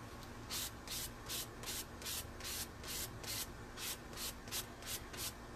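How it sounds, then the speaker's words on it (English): Paint blobs are scraped across a vision board in a dozen or so quick, rhythmic rasping strokes, close and quiet, with no talking. "So I'm just doing these little blotchies, these little blobs of paint, scraping them out everywhere"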